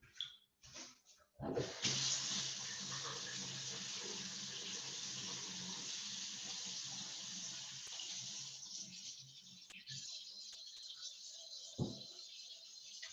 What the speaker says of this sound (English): I'm going to run it under some hot water a little more.